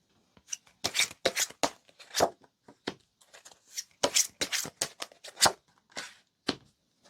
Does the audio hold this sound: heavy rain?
no